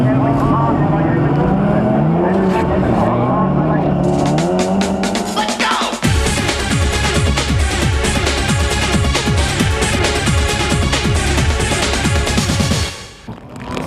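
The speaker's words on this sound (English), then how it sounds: "Simon Bales survived to win the 6-lap mudbath and take the under 1400cc final from Dresser and Russell Crompton." Rallycross cars in the under 1400cc class race through a muddy six-lap final at the Ulster Rallycross GP, engines roaring and revving loudly and close by, a sharp burst of rapid rasping engine pulses taking over midway.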